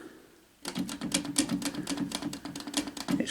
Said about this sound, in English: when I'm typing, the ribbon actually goes round